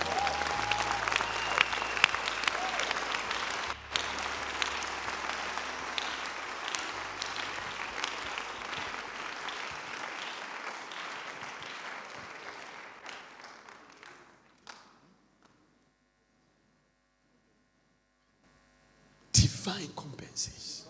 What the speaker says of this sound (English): It's a good place to clap for Jesus.